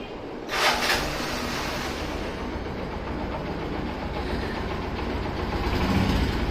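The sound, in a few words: Bajaj Platina 100 motorcycle engine running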